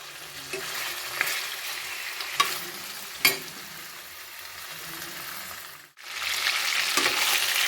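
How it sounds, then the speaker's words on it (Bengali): Chicken pieces shallow-frying in oil until lightly browned, a close, continuous crackling sizzle punctuated by a few sharp stirring clicks, briefly dropping out before resuming strongly. "অল্প করে ভেজে নেবো চিকেনগুলোকে আমি।"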